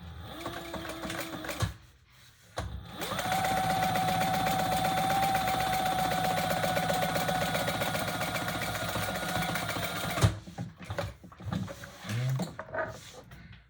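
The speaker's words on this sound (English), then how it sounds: "They're in the dryer, and it's all the way on the other side of the house, and it's making all that racket." Clothes dryer tumbling a load of drapes in a distant room of a house, a steady mechanical whir with a rhythmic churning thump that runs for about eight seconds between quieter stretches.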